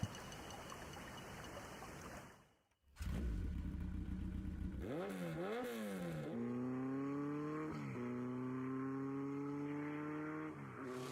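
Motorcycle engine in the 1996 Tomb Raider video game, revving up with rising and falling pitch sweeps after a brief silent gap, then holding a loud steady drone with periodic gear-shift dips.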